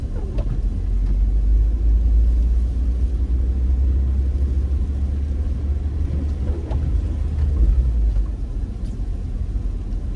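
A car rolls through snowy South Philadelphia streets near the Girard Estate, with a steady low engine and road rumble heard from inside the cabin, continuous and fairly loud.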